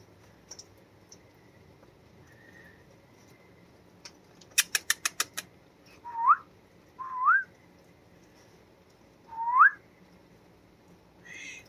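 Baby raccoons being fed give three short, rising chirping calls, clear and close, after a quick burst of rapid clicks, over a quiet background.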